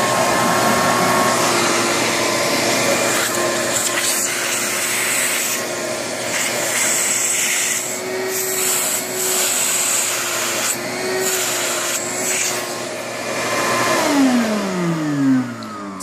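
A Shop-Vac wet/dry portable vacuum runs continuously and loudly, its motor drone blowing warm air with shifting pitch and rubbing noises, then winding down near the end; no one talks.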